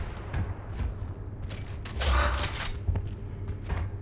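Gunfire in the shooter Gears of War: a few sharp shots and a heavier boom over a steady low mechanical hum, all short and fairly close, with no talking.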